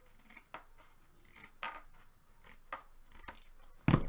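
Scissors snip through card paper during card making, a series of sharp, close cuts spaced irregularly over a few seconds, with a louder final snip at the end.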